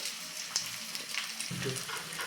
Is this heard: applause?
no